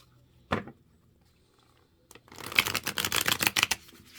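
Tarot cards shuffled by hand during a zodiac reading: one brief snap near the start, then about two seconds of dense, rapid riffling and flicking close up, with no talk.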